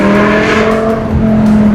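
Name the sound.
V10 car engine revving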